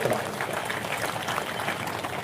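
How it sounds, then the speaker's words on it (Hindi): A large outdoor crowd at a Bharatiya Janata Party election rally in Goh, Aurangabad, Bihar, claps steadily in a broad, sustained wash of applause welcoming J. P. Nadda. "एक बार जोरदार ताली बजाकर जेपी नड्डा जी का स्वागत करें"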